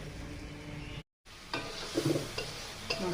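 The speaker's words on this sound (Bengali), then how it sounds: "গুঁড়া সব গুঁড়া মশলাগুলো এবার আমি সব ভালো করে ভেজে নেব।" Ground spices frying in a pan, a steady close sizzle with scraping stirs of a spatula, briefly cut out near the start, then clinking strokes against the pan.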